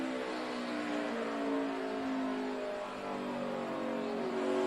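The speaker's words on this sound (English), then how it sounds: "you hear Harvick stutter in the throttle coming up off the corner" A NASCAR race car at the 2012 Capital City 400 works its throttle out of a corner, a sustained, fairly distant engine drone that wavers in pitch and loudness as it accelerates, with no talking.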